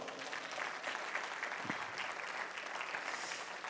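A church congregation applauds in praise to the Lord, a dense, steady wash of many hands clapping that continues evenly throughout.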